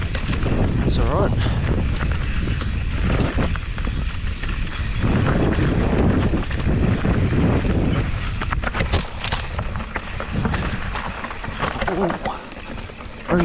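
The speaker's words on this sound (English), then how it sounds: "Probably can't hear me over the wind." Heavy wind buffets the microphone while mountain biking along a fire road and trail at Plenty Gorge, a constant loud roar with gusty swells and rattling, with speech partly buried beneath it.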